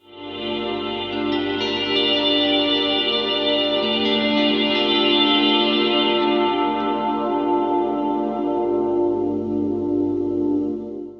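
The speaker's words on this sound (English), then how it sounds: "reverb," A swelling, washed-out guitar chord rings with heavy reverb, rising and lingering in a dense, spacious tail for several seconds before fading.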